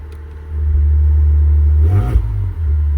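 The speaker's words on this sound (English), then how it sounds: "All right, we got the car started. It sounds amazing." A Maserati engine, running after repair of a wreck, idles then revs up into a loud, deep rumbling drone, dipping briefly with a throttle blip before settling back to a steady hum.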